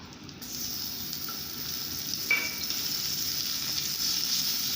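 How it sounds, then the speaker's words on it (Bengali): Chopped onion and tomato fry in oil with bay leaf, cardamom and clove, making a soft, even sizzle throughout with a faint brief clink partway through, quiet and without speech. "দিয়ে এটা একটু ভেজে নিয়ে ওই পেঁয়াজ আর টমেটো কুচিটা দিয়ে দেব।"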